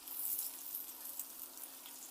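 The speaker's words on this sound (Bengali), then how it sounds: "পেঁয়াজটা হালকা লাল করে ভেজে নিতে হবে" Onions fry gently in a pan for Bengali chicken muitha, a faint, steady sizzle with soft crackles throughout.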